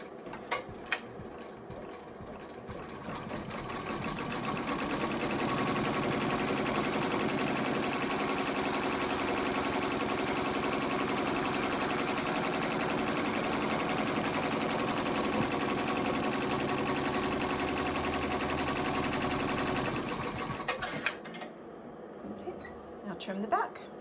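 Embroidery sewing machine stitching around the outside edge of a fabric mug rug, a continuous rapid mechanical whir that holds steady for about fifteen seconds and then stops, close by.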